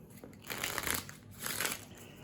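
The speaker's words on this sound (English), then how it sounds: "I'll give them a shuffle." A deck of Fliptown game cards being shuffled up close, two quick riffling bursts of papery flutter with brief pauses between them.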